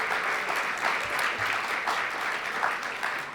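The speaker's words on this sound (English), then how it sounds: "Let's give them a round of applause if they could stand." Audience applause at a business breakfast during a Hispanic Chamber of Commerce legislative summit, steady, dense clapping from a large crowd in a hall, sustained without a break and heard alone.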